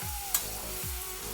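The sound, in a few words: frying soaked chana dal with okra in a pan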